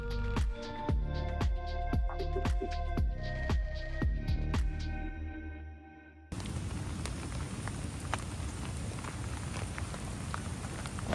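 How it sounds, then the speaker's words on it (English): Rain falls steadily overnight on the W Trek in Patagonia, heard in the second half as a dense, soft hiss with scattered patters; the first half holds rhythmic thumping beats instead. "It has rained all night, quite a lot."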